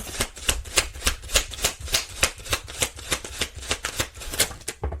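Tarot cards being shuffled by hand in quick, even riffling bursts, a close crisp flutter repeating about four times a second without any speech.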